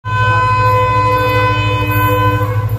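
A loud, sustained train horn blares with a constant low engine drone beneath it as the train arrives at Karad station, close by and unbroken.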